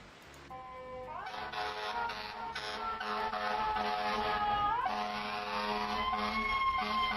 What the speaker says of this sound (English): nobody stops for the fire engine